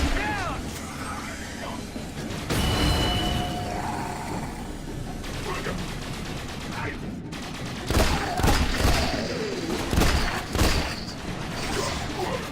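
Rapid laser gunfire bursts in the video game The Bureau: XCOM Declassified, with repeated shots, booms and mechanical game effects throughout, partly under talking.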